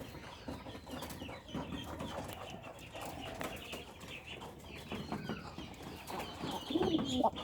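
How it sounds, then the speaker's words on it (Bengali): Domestic pigeons coo softly and repeatedly close by, against a busy backdrop of other birds, fowl clucks and a brief flutter of wings. "দেশি কবুতর ডাকই সুন্দর লাগে।"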